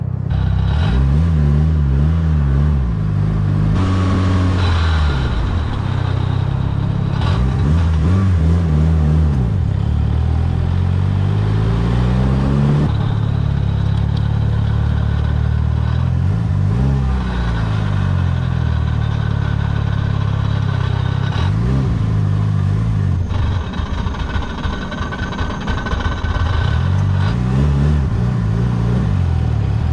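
Mitsubishi Lancer Evo 5 engine with an aggressive performance clutch that chatters, idling and revving loudly throughout with repeated rising and falling engine pitch, close up and steady with no talking.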